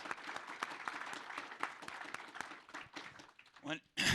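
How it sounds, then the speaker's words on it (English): A room audience at the Precious Metals Summit in Beaver Creek gives a round of applause, a steady dense clatter of many hands that runs throughout and swells briefly near the end. "let's start by giving Jessica and the entire team here at the Precious Metals Summit a round of applause"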